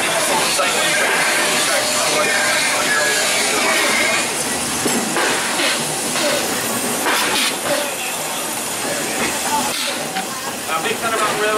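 A steam train on the Walt Disney World Railroad gives off a loud, steady hiss of steam with scattered clanks and rattles, and a voice speaks faintly underneath.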